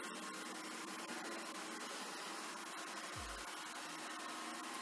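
A Xiaomi Roborock Sweep One robot vacuum with a water tank runs indoors, mopping and vacuuming a room with a constant, faint whirring hiss and a brief low thump near the end, with no voices.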